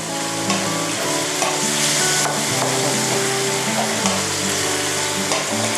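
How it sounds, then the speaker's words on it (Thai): Pork stir-fries in a hot pan for pink coconut-milk rice noodles, with a loud, continuous sizzle and frequent scraping of a spatula against the pan, heard up close with no talking. "แล้วก็พยายามผัดจนกระทั่งหมูสุกค่ะ"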